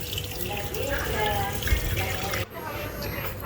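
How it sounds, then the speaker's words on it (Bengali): Cut French-fry potatoes rinsed under running tap water in a sink, a steady splashing flow with a voice talking over it, then the water cuts out and a quieter room remains. "আলুগুলোকে খুব ভালো করে আমি এখানে ধুয়ে নিচ্ছি।"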